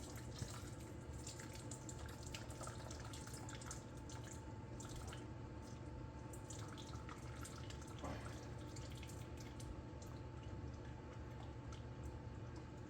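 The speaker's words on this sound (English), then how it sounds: "Drain all that fat out." Fat drains and drips from a pan of cooked ground meat for sloppy joes, a faint, steady trickle with scattered soft drips and ticks over a low background hum, and no one speaking.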